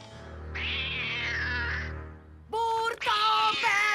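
A cartoon cat meows in a sustained high whining cry, then two sharper, louder meows in quick succession, close and clear with no talk over them.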